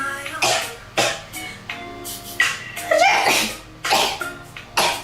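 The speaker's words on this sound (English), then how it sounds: "That was like 5 or 6 sneezes back to back." A rapid run of about five or six sneezes follows one after another, each a loud, close burst with short gasps between, no talking alongside.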